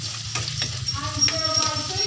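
Chopped onion and garlic sauté in a hot pan for a mung bean dish, a close, steady sizzle broken by a few scraping stirs, with no talk.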